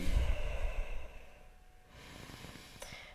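Slow, audible breathing close by, a long exhale fading into quiet followed by soft breaths, with no talking.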